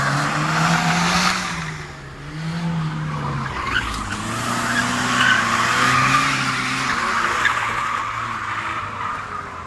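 A Honda Jazz i-VTEC does a donut, its tires squealing and skidding continuously with the engine droning underneath, loud and close, the pitch wavering as the car circles.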